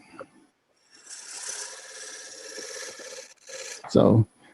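A lathe tool rasps across a turning wooden bowl while cutting a tenon, a steady scraping hiss lasting about three seconds, ending with a short low thump.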